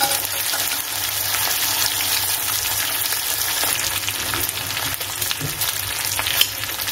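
Potato and cauliflower pieces sizzle and crackle steadily in hot spice masala, with occasional stirring scrapes, close and fairly quiet with no talk.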